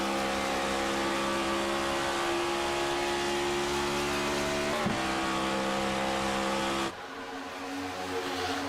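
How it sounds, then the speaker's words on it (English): Race car in an esports racing video game holding a loud, steady high engine drone, with a quick gear-change blip midway and a sharp drop in pitch and level as it shifts from fourth into fifth. "He is shifting from 4th into 5th."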